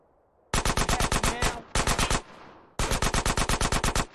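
Rapid bursts of automatic gunfire in Grand Theft Auto San Andreas: Definitive Edition, shots aimed at a car, three volleys of quick shots with short pauses between, loud and close.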